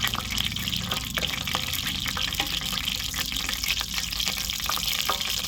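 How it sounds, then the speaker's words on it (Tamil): Mustard seeds splutter in hot oil in a kadai over a wood-fired stove: a dense, continuous crackle and sizzle with sharp little pops scattered through it, close and fairly loud, with no talking. "கடுகு நல்லா பொரியுது"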